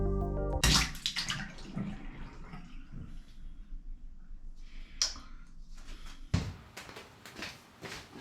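Water poured from a 3D-printed test cup splashes and trickles in a steady stream, opening with a loud gush, easing to a softer flow, then surging again near the end; no one speaks.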